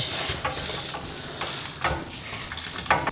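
A ratchet tightening bolts on a homemade Jeep trailer outdoors: quick repeated clicking strokes in short bursts, close and moderately loud, with no talking.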